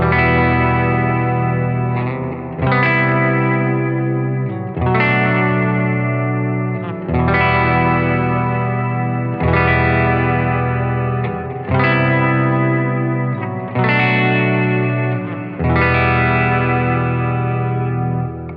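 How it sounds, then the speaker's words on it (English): A heavily distorted electric guitar plays sustained chords through a Spruce Effects Jr Ranger Yosemite reverb pedal, each ringing out with lush reverb before the next is struck, loud and close. "I'm sure you've noticed that this is distorted."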